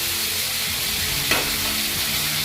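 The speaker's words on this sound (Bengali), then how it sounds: "3 থেকে 4 মিনিট সময় লাগছে মাছগুলো ভাজার জন্য।" Fish pieces frying lightly in oil in a kadai for a Bengali dahi katla recipe, giving a steady close sizzle with brief stirring scrapes and a small clatter midway.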